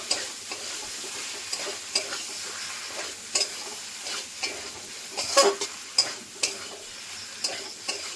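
A spoon stirs fried potatoes through poppy seed paste in a hot oiled pan for a Bengali aloo posto, giving soft continuous sizzling with regular light scraping and clicking strokes, close by.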